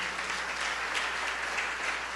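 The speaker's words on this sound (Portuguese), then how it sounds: "Aplauda ao Senhor, amém?" A church congregation applauds, dense, steady clapping filling the room for a couple of seconds at moderate volume.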